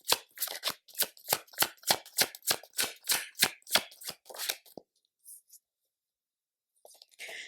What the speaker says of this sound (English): I'm going to shuffle a few cards to see what comes up for that